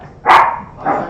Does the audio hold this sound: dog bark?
yes